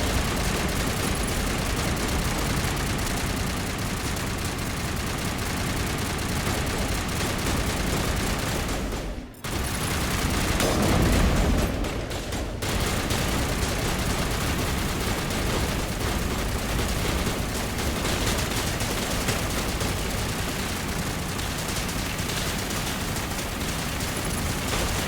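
Teammates' gunfire in Mass Effect Legendary Edition: dense, continuous rattling bursts of fire fill the whole stretch, with one brief dip partway through.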